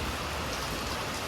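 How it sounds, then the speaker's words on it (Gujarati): Steady rain falls continuously nearby, a dense, even hiss of drops pattering on surfaces with no voices and no breaks. "તો જો વરસાદ"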